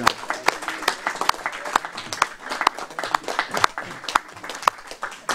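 Council members at a municipal council meeting applaud a newly elected colleague, a modest group of distinct, uneven hand claps over a few seconds, with some talk underneath.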